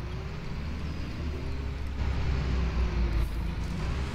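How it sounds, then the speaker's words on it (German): A VW AMD Alamo bus drives in the Omsi 2 simulator, its engine a steady low rumble with road noise, swelling slightly partway through, with no talking. "Der Sound von dem Bus, der ist richtig geil geworden."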